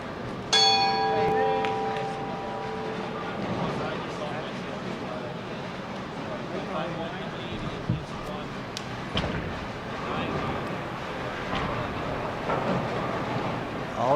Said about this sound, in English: Bowlers, at the sound of the bell, you may begin your competition.